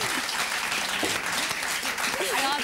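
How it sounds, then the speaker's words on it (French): Continuous applause from a television studio audience, fairly busy and steady, with a voice briefly audible through the clapping. "On les applaudit."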